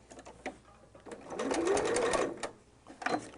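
A sewing machine stitches a quilt seam out past the corner edge in one short, steady whirring run that rises and then stops, with faint handling clicks around it.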